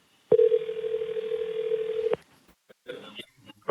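A telephone ringback tone on a call line plays as one sustained electronic buzz for about two seconds, then stops sharply, followed by faint muffled voice-like sounds and clicks.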